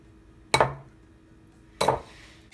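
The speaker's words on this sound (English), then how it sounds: "now we are going to crack an egg" Two sharp cracks of an egg being broken against a bowl for keto breakfast bakes, each a crisp knock about a second apart, close and clear in a quiet kitchen.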